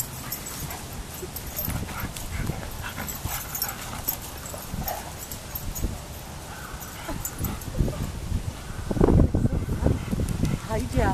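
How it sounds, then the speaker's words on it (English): Dogs playing chase outdoors, with close whimpers, yips and occasional barks amid scuffling, growing louder toward the end while people talk over them. "Well, he has fun chasing all the other dogs until he meets up with Saga."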